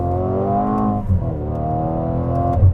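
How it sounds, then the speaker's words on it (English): A 2021 Mercedes-AMG GLA35 at full throttle revs hard and climbs steadily in pitch, a smooth, synthetic-sounding drone from engine audio piped into the cabin, with a brief dip midway, loud and close. "now I'm going to floor it and use that paid pumped-in audio"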